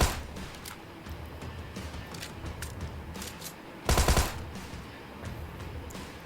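A Thompson submachine gun firing in PUBG Mobile, one short loud burst of rapid shots standing out above quieter background game noise.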